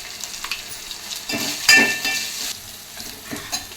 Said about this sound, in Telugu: యాడ్ చేసి మనం బాగా వేయించుకోవాలి